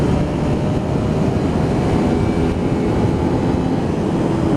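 Honda VTR250 motorcycle engine pulling uphill in fourth gear, a steady loud drone with rumbling low end and wind roar blended in, continuous and close throughout.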